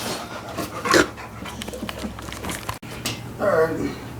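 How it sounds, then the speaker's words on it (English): A dog pants steadily in a garage while being petted, with quick breathy huffs close to the mic and people talking nearby. "Carlos in here petting the dog"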